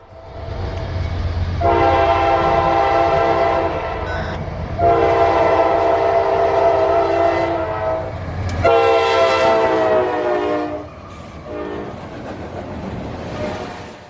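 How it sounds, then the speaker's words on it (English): A southbound hotshot intermodal freight train passes at track speed at night near Spring City, Tennessee, its horn sounding loudly in several long blasts over a heavy rumble and the rolling clatter of rail cars. "It would be southbound hotshot intermodal 229, coming out of Chicago, Illinois, bound for the FEC in Jacksonville, Florida."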